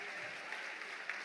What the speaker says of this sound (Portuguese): As mulheres aplaudem.